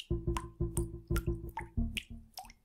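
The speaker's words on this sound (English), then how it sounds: "it sounds like dripping water" Water dripping in a toilet setting, a series of about eight distinct plinks with short resonant tails at a steady, slightly uneven rhythm, close and clear with no talk.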